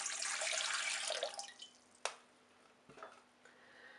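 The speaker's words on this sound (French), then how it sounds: "Dans la cuve de mon robot, je vais commencer par mettre l'eau d'abord." Water poured into the metal bowl of a stand mixer, a close splashing stream that fades out after about a second and a half, followed by a couple of small drips and knocks.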